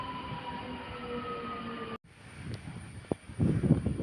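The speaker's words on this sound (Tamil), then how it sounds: "எர்ணாகுளம் பாலக்காடு மெமு பேசஞ்சர் போயிட்டுருக்கு." Ernakulam–Palakkad MEMU passenger train passing a small railway station, a steady tonal hum giving way after a break to rattling wheels and clatter that grows louder toward the end.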